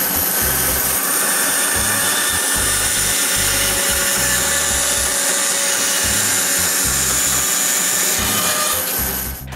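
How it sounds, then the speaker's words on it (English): A power tool cuts small wooden wedges for a rocking chair repair, a loud steady whine with a rhythmic low thumping running through it and nothing else heard. "Next, I cut some wedges."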